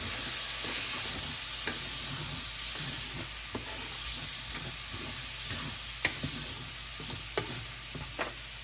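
Cajun fettuccine sauce, seasoned with Cajun spice and brown sugar, sizzles loudly in a hot pan while being stirred, a dense continuous hiss with occasional sharper pops and scraping strokes, no voices.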